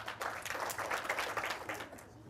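Audience applause at a live storytelling show of the Three Little Pigs, a short burst of steady clapping that is moderately loud and fills the room for a couple of seconds before easing off slightly.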